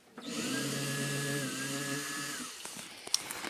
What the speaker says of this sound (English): Now we drill.